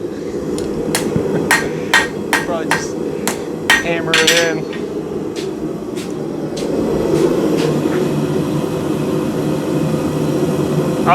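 A blacksmith hammers a steel throwing spike on an anvil, a steady series of sharp, ringing metallic strikes over a continuous low roar of forge or machinery, with a rapid cluster of blows midway.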